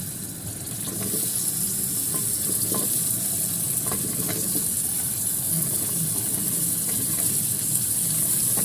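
Half a kilo of potatoes and half a kilo of peas sizzle and crackle steadily in a hot pan, a loud continuous frying hiss starting after a brief quieter moment.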